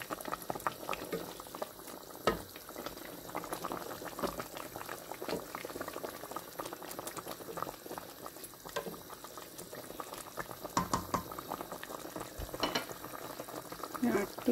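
A pot of fish curry with curry powder bubbles and simmers while being stirred, with steady soft boiling and occasional scraping and clinking of the spoon, close by.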